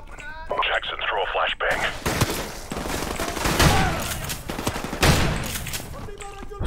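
Gunfire rattles in rapid, loud bursts during a Call of Duty: Modern Warfare Remastered mission, with heavy shotgun-like blasts among the shots and radio chatter and talking in between.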